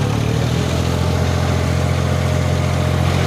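A John Deere D series tractor engine idles steadily nearby with a constant low throb and rumble, no voices over it.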